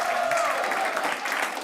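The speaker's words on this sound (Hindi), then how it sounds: "एक बार जोरदार ताली।" An audience breaks into loud, continuous applause for Harman after his cash prize is announced, a thick wash of clapping with voices talking over it throughout.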